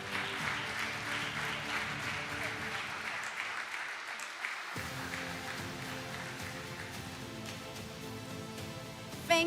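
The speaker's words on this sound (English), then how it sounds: "your applause, of course." Applause from an audience at the International Medis Awards ceremony rolls on steadily as a dense, even wash of clapping that keeps going through the whole stretch, with voices faintly underneath.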